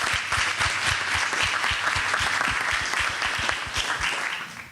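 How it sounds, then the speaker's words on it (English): Audience applause for panelists at the close of a violence-prevention policy panel: a full room claps steadily and loudly for several seconds, dense overlapping claps with no voices. "So let's give our panelists a round of applause."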